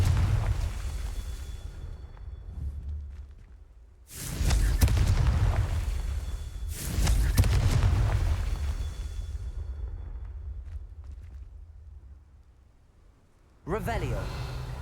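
Spell explosions from the Confringo curse in the video game Hogwarts Legacy, with two loud booming blasts in quick succession and a third burst near the end, alongside the game's background ambience.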